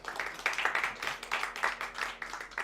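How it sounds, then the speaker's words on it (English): An audience applauding a speaker at a talk, a modest patter of clapping with a loose uneven rhythm, soft and somewhat distant, lasting a few seconds. "Let's give him a round of applause."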